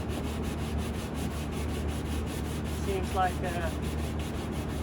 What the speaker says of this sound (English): I'm gonna sand this side a bit.